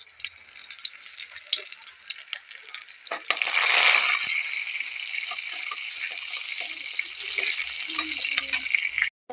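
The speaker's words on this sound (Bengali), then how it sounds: "এখন আমি রসুনটি দিয়ে দেবো তেলের মধ্যে।" Garlic dropped into hot oil for cooking greens, a soft crackle that swells into a louder hissing sizzle and then settles into a steady frying crackle with scattered pops, fairly quiet and close.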